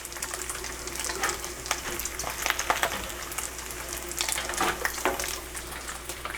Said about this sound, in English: Put the collard greens in the pot.